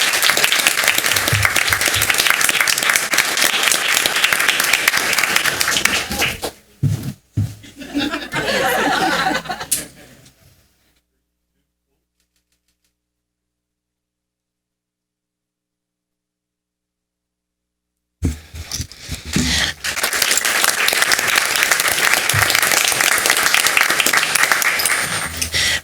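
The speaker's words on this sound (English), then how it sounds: "Let's give them a round of applause." Applause from the audience at a school district board meeting, a loud sustained ovation with some chuckling, then a stretch of silence before a second strong round of clapping.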